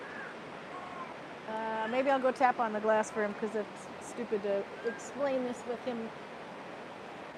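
A huge river rages outside after days of heavy rain, a steady broad rushing wash that runs unbroken under a voice speaking close by.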